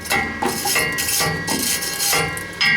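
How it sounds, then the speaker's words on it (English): A wire brush scrubs welding slag off a flux-core weld on an exhaust hanger of a 1998 Ford Ranger. The scraping and clinking of metal is loud and close, continuous for a few seconds with short rougher bursts. "I'm gonna brush some of this slag off here."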